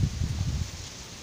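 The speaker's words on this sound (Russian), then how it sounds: "Отсюда дует очень ветер." Wind gusting across an open swamp, a low rushing and rumbling roar with buffeting against the microphone, strongest in the first half and then settling to a steadier hiss, with no voices.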